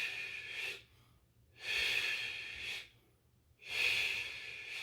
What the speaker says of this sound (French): On souffle et on inspire.